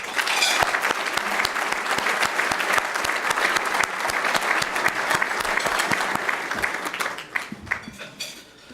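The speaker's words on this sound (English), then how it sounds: "let's give another round of applause to First Lady Amy Ward" Sustained applause from an audience at a City Club of Chicago luncheon honoring First Lady Amy Ward, dense steady clapping filling the room for several seconds before tapering off near the end.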